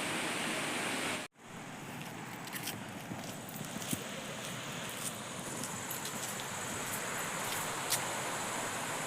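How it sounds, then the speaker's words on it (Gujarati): Water flows steadily at an ashram in the dark, a constant, fairly quiet rushing wash broken by a brief dropout early on and faint scattered ticks, with no one speaking. "પાણીનો અવાજ આવે છે"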